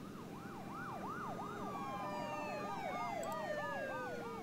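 Several police car sirens wail together in The Walking Dead video game, overlapping rising and falling tones that sweep steadily and fairly loudly over a low rumble of traffic, with no talking.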